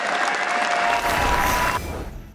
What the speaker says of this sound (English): Please give a round of applause for Tom60229 from Taiwan.